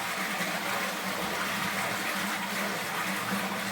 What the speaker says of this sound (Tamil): எப்போவுமே க்ளோஸ் பண்ணி ஃப்ளஷ் பண்ணுறது ரொம்ப நல்ல பாயிண்ட்